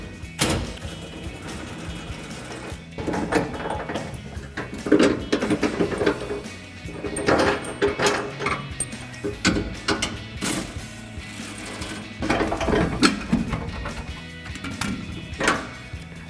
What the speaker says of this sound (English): So I've got a 21mm swivel socket. I'm gonna get on that bolt and pull that out.